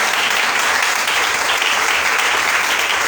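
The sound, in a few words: congregation applauding and acclaiming in church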